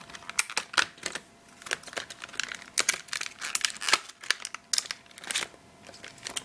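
Plastic packaging around a Patriot 2 GB DDR2 800 RAM stick being cut and torn open for an HP Mini netbook, a dense run of close crinkles, snips and crackles in irregular bursts.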